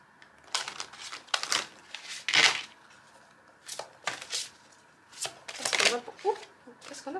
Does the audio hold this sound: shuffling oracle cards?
yes